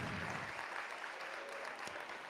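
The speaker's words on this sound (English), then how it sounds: "I don't know why you guys keep on clapping hands." Steady, fairly soft audience applause fills an indoor Grade 10 maths session, a dense even wash of many hands clapping with no break and no clear talk over it.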